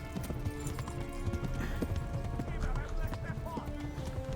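Horse hooves clip-clop at a run in the video game Kingdom Come: Deliverance, a steady rapid beat close by, mixed with game music and background sounds while someone speaks over it.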